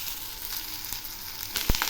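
Chopped ridge gourd drops into a hot pan of frying ingredients, giving a steady, soft, close sizzle with a sharper burst of crackle near the end as the pieces hit the oil.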